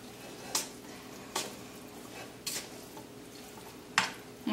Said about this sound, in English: we're going to go ahead and put this onto the stovetop on about medium heat, and we're just going to kind of let this heat through